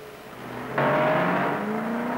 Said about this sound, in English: Here's the car that Ford claims can do 100 miles an hour in 13 1/5 seconds.